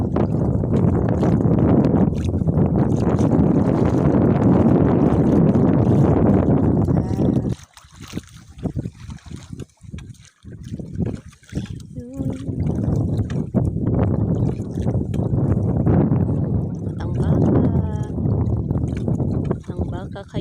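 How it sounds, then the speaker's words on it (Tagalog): Strong wind at sea buffets a microphone aboard a boat, a heavy, loud roar for the first several seconds, then gusts rise and fall with splashing water while someone talks over it. "Medyo malakas ang hangin."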